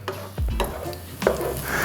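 Bacon fat sizzles and crackles steadily in a frying pan, with a couple of scraping stirs and utensil clinks.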